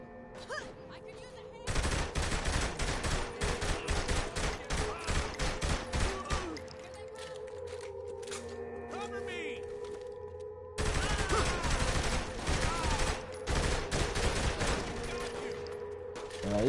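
Shotgun blasts and gunfire in a Saints Row game, dense bursts of loud shots in two long volleys separated by a quieter stretch of game hum, with talk over the top.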